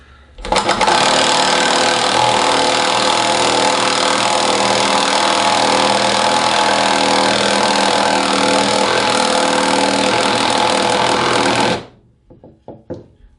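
A Milwaukee M18 2-speed right angle impact driver on its lowest mode, 350 inch-pounds, drives a 2.5-inch screw into a piece of wood with a loud, steady hammering whir lasting about eleven seconds before stopping abruptly, followed by a few faint clicks.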